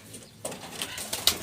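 Pigeons and their chicks coo softly in a backyard loft, with brief flutters of wings and faint rustling mixed in, close to the microphone.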